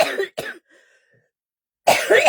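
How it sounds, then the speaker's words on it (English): A woman with a tickly throat gives a couple of short, sharp coughs up close, followed by a pause and then more throaty coughing. "And apparently a cough."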